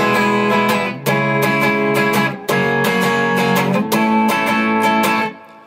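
A solo guitar plays the opening lead line of a song, a short melodic phrase of clear plucked notes in a few bursts with brief gaps, close and loud, with no talking.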